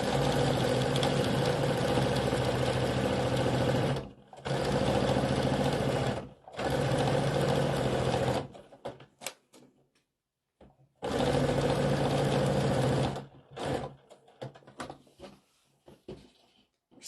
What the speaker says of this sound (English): sewing like the wind here.